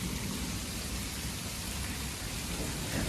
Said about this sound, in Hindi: हाय हाय हाय हाय कितने जोर से गरज रहा है, कितनी जोर से बादल बोल रहे हैं। और बारिश देखिए ना, बारिश तो हद कर रही है।